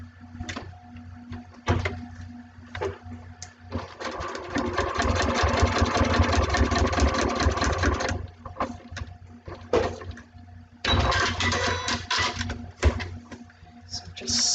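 A sewing machine stitching a line on a foundation paper pieced quilt block, running in two bursts of fast, steady mechanical whirring, close up, with quiet pauses and handling between them.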